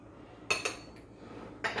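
A few quick clinks of a utensil against a bowl while mixing coconut pie ingredients, two close together, then a pause and another, over quiet background noise.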